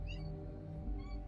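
A house cat meows at a door, a few short, fairly faint cries over a steady low background hum.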